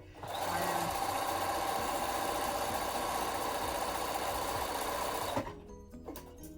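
A sewing machine stitches a crazy patchwork lampshade, running in one steady, loud, close mechanical whir for about five seconds before stopping abruptly.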